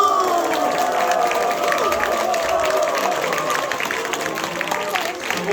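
A church congregation claps and cheers at a Bible-verse recitation contest, steady loud applause with crowd noise filling the whole stretch and voices mixed in.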